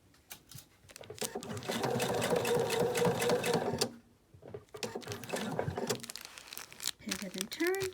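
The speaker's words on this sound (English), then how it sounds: "We got a fixed stitch, and we're going to sew straight." A sewing machine with a 90/14 stretch needle runs a straight fixed stitch through minky fabric, a fast close whirring burst that stops and restarts, with a person talking around it.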